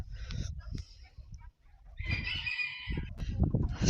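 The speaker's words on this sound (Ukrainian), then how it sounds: "у нас всі дні Джекі Чан водить курей" A rooster crows loudly over the soft clucking of hens, with farmyard rustling in the background.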